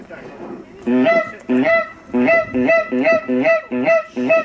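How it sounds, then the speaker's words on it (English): Geese honk in a close, loud series of about eight rhythmic calls, each a nasal two-part honk, following a brief quiet start. "the geese are coming"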